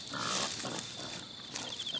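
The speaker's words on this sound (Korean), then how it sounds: "벼알 서리에 멧돼지들도 끼어들었다" Wild boars feeding at night in a rice paddy near a village, with faint grunting and rustling snorts, quiet and somewhat distant, carried over a steady background of insect hum.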